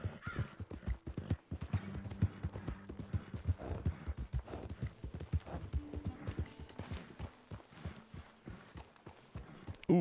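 Horse hooves clip-clop at a steady walking pace in Red Dead Redemption 2, close and continuous for the whole stretch, with a low hum of game ambience and a few faint background sounds.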